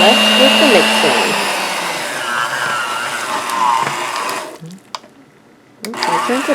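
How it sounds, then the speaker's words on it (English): Small electric hand mixer whirring loudly as it blends oils into shea butter for a moisturizing hair butter, running steadily with shifting pitch, then cutting off briefly before starting up again. "I have my nice little mixer here."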